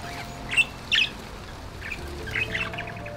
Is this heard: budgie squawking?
yes